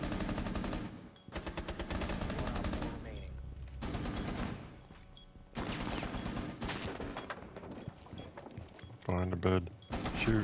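Rapid automatic gunfire from a first-person shooter video game bursts repeatedly in loud sustained volleys with short gaps, while players talk over the shooting.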